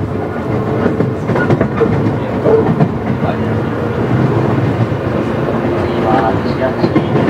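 A JR 117 series 100-subseries electric train bound for Itozaki from Okayama rumbles along with a steady roar and rhythmic clatter of wheels on rails, while an announcement voice speaks briefly over it.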